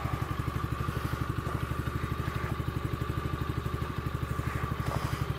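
Coolster ATV-3125XR-8U 125cc ATV engine idling as it warms up, a steady rapid putter with even mechanical clatter, close and moderately quiet, running alone without talk.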